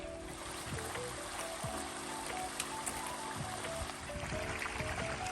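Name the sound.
trickling snow melt stream along the trail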